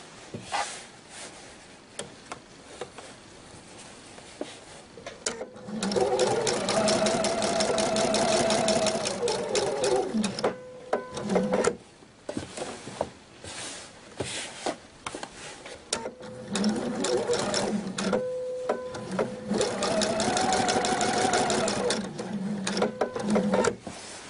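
A sewing machine stitches a tunic shirt in two long steady runs of rapid, even needle chatter, with a pause and a few short clicks between them.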